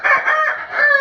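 A Heja rooster crowing up close, one loud, harmonic cock-a-doodle-doo in a single clear call.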